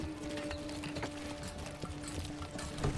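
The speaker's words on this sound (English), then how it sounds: "A horse or a mule. Is that a horse or a mule?" Horse hooves clip-clop in the medieval city-building game Manor Lords, a steady run of soft, even hoof steps under a faint tonal hum, without talk.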